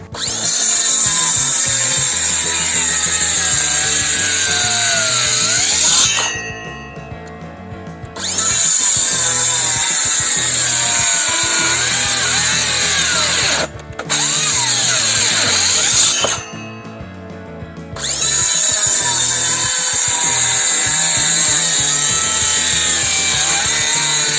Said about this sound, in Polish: Wykonamy jedno pełne cięcie w takiej oto kantówce 14 na 14